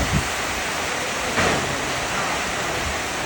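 Heavy rain driven by strong wind during a Kollam downpour, a steady dense hiss throughout with a brief louder gust surge midway.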